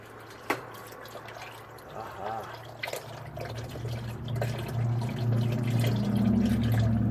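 Engine oil drains from a 2018 Ford E-450 RV's 6.8L V10, pouring and splashing steadily into a container, with a few drips and a low hum in the background, growing fuller toward the end.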